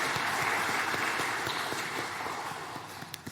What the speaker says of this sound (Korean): 축복하고 격려하는 박수 한 번 더 하겠습니다